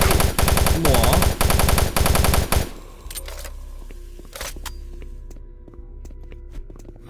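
Chaingun fire from enemy chain gunners in Doom 3, a loud rapid continuous burst for about two and a half seconds that stops abruptly, followed by quieter scattered clanks and thuds.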